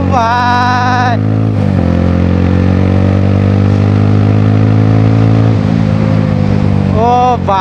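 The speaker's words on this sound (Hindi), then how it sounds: "क्या लाउड हो रहे भाई बाइक, देख रहे भाई" A TVS Apache RTR 160 motorcycle fitted with an Akrapovic exhaust revs loudly and close by, with a deep, steady droning roar held for several seconds between rising throttle blips.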